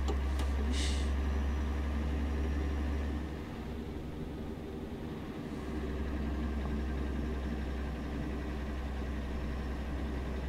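Heavy truck engine in Euro Truck Simulator 2 with ProMods, an old six-speed manual-gearbox rig on the Thessaloniki to Taranto run, droning steadily with a low rumble that dips briefly midway, heard alone.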